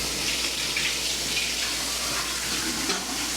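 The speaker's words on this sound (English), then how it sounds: "just wash my hands to get the flour off" Flour-covered hands are rinsed under a running kitchen tap, a steady close hiss of flowing water with slight splashing, no voices.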